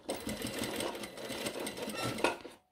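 A sewing machine runs steadily while stitching down the seam of a shirt, a continuous close mechanical whir for nearly three seconds that stops abruptly at the end.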